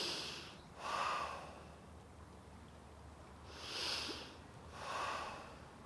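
Slow, deep breaths through the nose during a yoga pose, three soft breathy swells spaced a couple of seconds apart in a quiet room.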